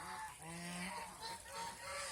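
Domestic ducks on a farm, fed on water hyacinth, give overlapping nasal honking calls. The calls are close and continuous for a couple of seconds, with no voices.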